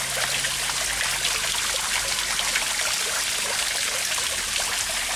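A small fountain in a city park gurgles and trickles steadily at close range. The dense splashing water noise holds even and unbroken throughout, with no talking.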